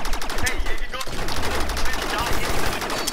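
Continuous rapid blaster-style gunfire from a Star Wars battle in Rec Room rattles loudly and closely throughout, a dense stream of shots with voices chattering underneath.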